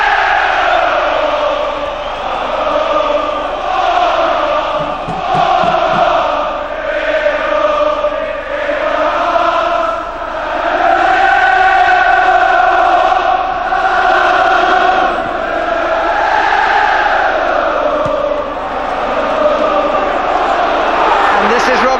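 Anfield football crowd celebrating a victory, a loud continuous roar of voices swelling and surging in waves, with chanting-like rises across the stretch.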